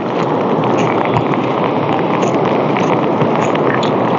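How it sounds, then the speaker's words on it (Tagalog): Heavy rain pours steadily in a dense, continuous roar, loud and close with no letup. "malakas ang ulan mga kaibigan"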